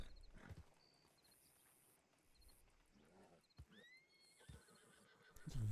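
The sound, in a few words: foxtrotter horse neighing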